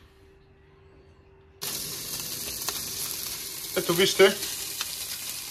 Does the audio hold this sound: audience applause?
no